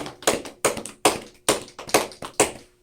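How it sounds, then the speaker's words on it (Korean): A church congregation claps together at a Sunday worship service to celebrate a birthday, the claps landing in short, steady bursts roughly twice a second, close and clear with no talking. "우리 축하하면서 박수 한번 합시다."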